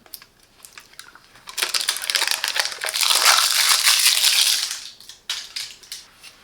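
Protective plastic film crinkles and tears as it is peeled off a Sanitas SBM 49 upper-arm blood pressure monitor, a few faint clicks first, then a loud crackling peel lasting a few seconds, close up, followed by light handling noises.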